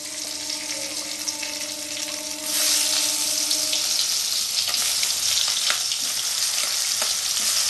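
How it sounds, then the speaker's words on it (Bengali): Eggplant pieces fry in oil in a kadai for a Bengali potato, eggplant and prawn dish, a loud dense sizzle that swells partway through, with a few light scrapes, near and unaccompanied. "এই তেলে আমি বেগুনগুলো ভাজবো ঠিক মাছের মতো করে"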